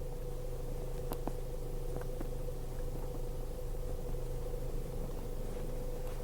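A 2017 Ford Escape Titanium reverses uphill into a parking spot, heard from inside as a steady low engine rumble with light road noise and a couple of faint clicks, continuous and even, no talking.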